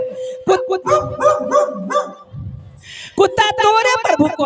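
A dog barks in quick, loud, close bursts at a crowded village fair, the yaps tumbling over excited voices speaking at the same time.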